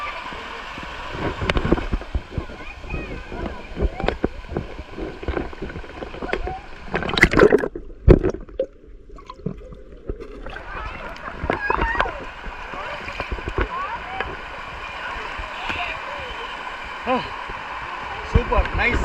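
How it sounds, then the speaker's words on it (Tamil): Water from the Kallar River running and splashing near Ponmudi hill station, a broadband gurgling wash with intermittent splashes, fairly close and steady, mixed with people talking throughout. "இங்கே ஒரு இடத்துல தண்ணி வந்துக்கிட்டு இருக்கு."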